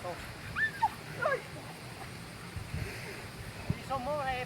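A dog whimpers in short high whines, with faint background chatter and a few brief thumps; the whines are soft and intermittent.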